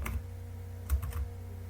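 Several quick keystrokes on a computer keyboard as a web address is typed, a short burst at the start and a cluster of clicks near the end, close and fairly quiet.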